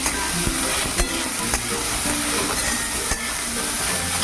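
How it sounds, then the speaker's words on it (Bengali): Potato and eggplant pieces fry on medium heat with a pinch of turmeric, a continuous close sizzle broken by regular scraping stirs and a few sharp knocks of the spatula against the pan. "দিয়ে এবারে আলু বেগুন একটু মিডিয়াম হিটে ভাজবো"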